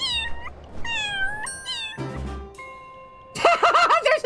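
Repeated cartoonish cat meows triggered by a meow button in Little Kitty Big City, several short bending cries in a row, the last burst louder and more rapid, with bright chime-like game tones between them.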